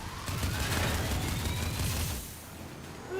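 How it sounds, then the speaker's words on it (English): Shotguns firing in the vehicle combat game Crossout, a loud rapid barrage of overlapping booming blasts that crowd together for a couple of seconds before easing off. "Yeah, these are some crazy shotguns."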